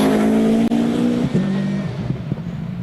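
An 800-horsepower four-wheel-drive hillclimb car races up the course at Shelsley Walsh, its engine roaring loud and close, with a sharp cut at a gearshift and then rising and falling revs as it pulls away.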